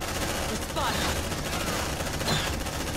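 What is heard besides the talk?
suppressive gunfire in Aliens: Dark Descent video game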